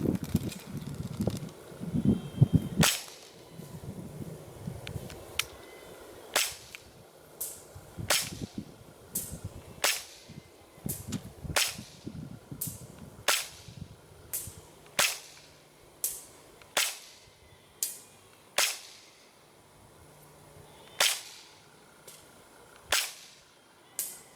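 An airsoft M93R Excella pistol fires outdoors at a target 150 feet away, with more than a dozen sharp, snappy cracks spaced a second or two apart amid light wind and rustling.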